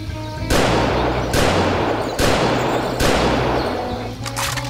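Four loud, booming shots from an XM-21 rifle in the Doom mod VietDoom, spaced roughly evenly with long rolling tails. No voice sounds over them.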